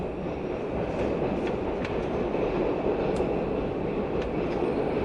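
A train passes close by outdoors during a film shoot, a steady heavy rumble of wheels and railcars filling the whole stretch with occasional faint metallic clicks and squeaks on top, no voices.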